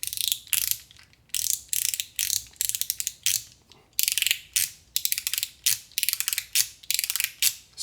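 A DJG Drive fidget toy, rebuilt as a standard paragraph-style mechanism after its spring broke, clicks in rapid ratcheting bursts, close and crisp, repeating in quick uneven clusters with short gaps, no voices over it.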